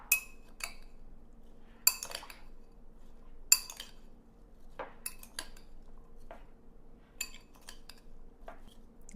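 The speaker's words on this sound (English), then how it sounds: "Let's stir this together." A spoon stirring jicama and honeydew melon fruit salad in a bowl, giving sparse, close clinks and scrapes of cutlery against the dish with quiet gaps between, no talk.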